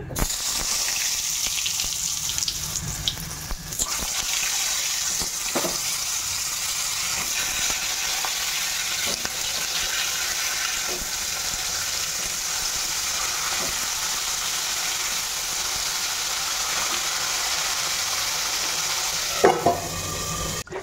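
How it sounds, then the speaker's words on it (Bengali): Large potato pieces fry in hot oil with a steady, loud, hissing sizzle that runs throughout. There is a brief clatter near the start and a few sharp knocks near the end. "এদিকে দেখো আমার তেল গরম হয়ে গেছে, এবার আলুগুলো ছেড়ে দেবো তেলের মধ্যে।"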